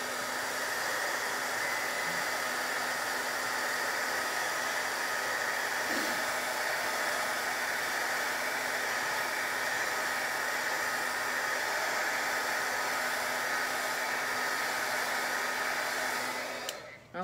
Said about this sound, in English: I'm going to use the heat gun and just make sure this ink is good and dry.